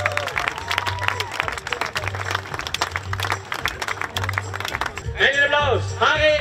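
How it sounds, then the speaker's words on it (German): Audience applause at a Winnetou-themed horse show in Wagram, scattered clapping under an announcer's voice with a rhythmic low thumping beneath, rising to cheers and whoops toward the end. "Applaus für die Rosi und den Aragon."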